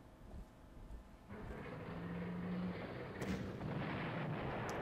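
Rumbling artillery fire from the Panzer Corps strategy game, with Wehrmacht guns opening up in a low, sustained boom that swells about a second in, followed by a brief sharper burst.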